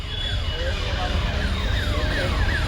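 A police siren wails repeatedly at a jewellery store inauguration crowd in Nizamabad, its rising-falling sweeps loud and continuous over dense crowd noise and chatter.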